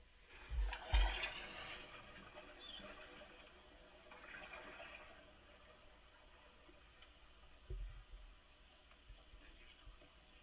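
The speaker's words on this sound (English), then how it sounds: "you can hear nothing but the waves splashing" Ocean waves wash against a car stuck in the sea in Australia, heard from inside the car: muffled, faint surges of splashing water, one near the start and another later, with quiet rumble between.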